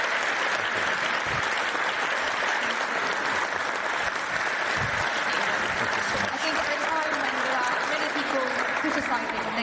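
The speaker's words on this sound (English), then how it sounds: "Applause to that." Continuous, even applause from a conference audience at a NATO session, a dense wash of clapping that stays loud throughout, with faint voices underneath.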